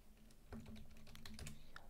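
Fingers typing on a computer keyboard, entering a file name: quiet rapid key clicks in an uneven run, close but faint, with no speech.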